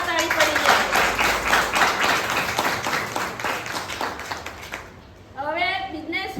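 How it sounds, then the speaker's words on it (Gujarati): Audience at a business achievers' event applauds for the team, a loud, dense burst of clapping lasting about five seconds before fading, followed by someone speaking. "તો ટીમ માટે પણ જોરદાર તાળી પડી જાય"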